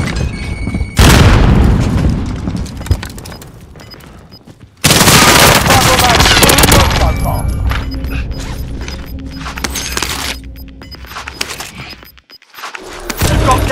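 A grenade blast booms in a video game, followed by heavy gunfire bursts and mechanical clatter, loud and close, with two big impacts and rattling shots between them.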